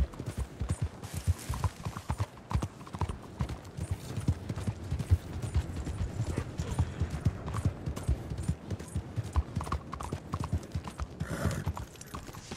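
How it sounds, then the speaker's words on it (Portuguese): Horse hooves clip-clop in Red Dead Online, a brisk, uneven run of close hoofbeats continuing throughout with no speech, and a faint mechanical clatter in the background. "Olha meu cavalo ali, galera"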